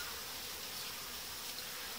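A steady, dense buzzing of many honeybees on hive frames, close by, constant and unbroken throughout.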